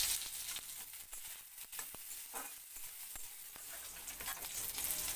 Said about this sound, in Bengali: এবার এখানে আমি যে বেগুনগুলো কেটে রেখেছিলাম সেই বেগুনগুলো আমি তেলের মধ্যে দিয়ে দিচ্ছি।